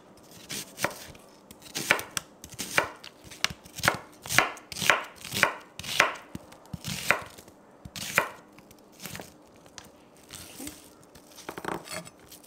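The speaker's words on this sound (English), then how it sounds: "now I'm going to be chopping the onion and the cilantro for the garnish" A knife chops onion and cilantro steadily on a cutting board, a quick series of sharp, close thuds in an irregular rhythm, with no talking.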